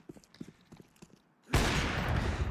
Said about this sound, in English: Another shot through the doors.